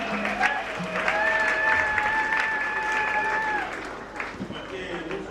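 A church congregation applauds in a steady wash of clapping while a voice calls out over it, and a high tone hums through the middle of the sound.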